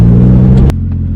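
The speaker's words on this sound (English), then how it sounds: "God damn, your car's loud." A loud drift car engine rumbles close by with a deep, steady drone, then drops abruptly to a quieter idle.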